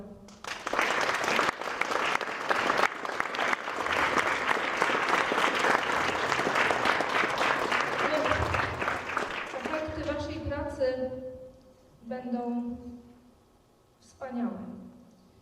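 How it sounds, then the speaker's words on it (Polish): Loud, sustained applause from a crowd at a Polish studniówka ball in Więcbork after a polonaise, filling most of the span before fading, with a voice speaking over the tail end. "wszystkim Wam należą się gromkie brawa"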